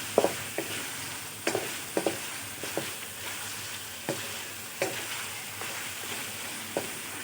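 Chicken fries with spices in a pot of lentils and mutton, a soft, steady sizzle broken by regular clinks and scrapes of stirring, close and fairly quiet with no talking.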